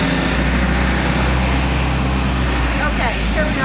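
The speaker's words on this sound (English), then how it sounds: "There goes the bus." A bus passes close by during a spring garden cleanup, its engine a steady, heavy low rumble that stays loud throughout, with a brief voice near the end.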